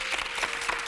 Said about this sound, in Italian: Facciamo un applauso ragazzi